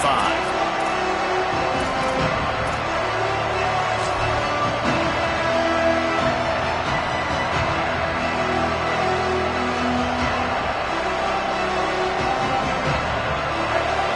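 Constant roar of a large stadium crowd in a college football video game, a dense steady wash of cheering and murmur running without a break.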